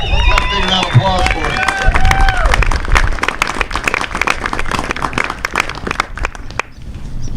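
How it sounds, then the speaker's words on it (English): A crowd at a high school graduation ceremony breaks into applause, steady clapping and cheering that runs throughout, with a speaker's voice audible over it at the start. "Let's have a big round of applause"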